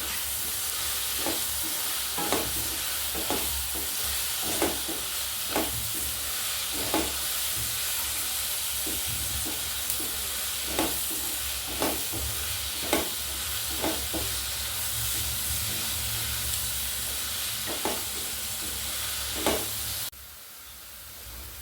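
Curry leaves, ginger, green chilli and onion fry in a pan with a constant loud sizzle, and a spoon scrapes through them at a fairly regular beat about every second, ending with a brief pause.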